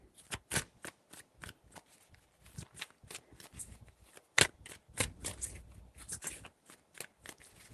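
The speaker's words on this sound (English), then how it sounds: "5 shuffles." A deck of cards being shuffled during a tarot-style reading, a run of quick crisp riffles and flicks repeating irregularly, close and moderately quiet, with no voices.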